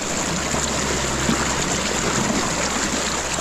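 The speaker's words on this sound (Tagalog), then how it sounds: "Grabe, lakas ng tubig dito." Strong stream water rushing steadily and loudly nearby, a dense continuous flow heading toward irrigation channels for rice paddies, with no voices over it.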